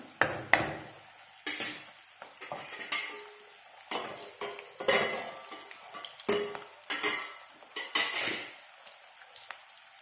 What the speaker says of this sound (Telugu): కొద్దిగా ఎర్ర కావాలి గోల్డ్ కలర్ వచ్చే వరకు ఇలా ఆయిల్లో ఫ్రై చేసుకుందాం